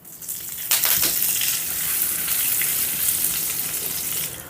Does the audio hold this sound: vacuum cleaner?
no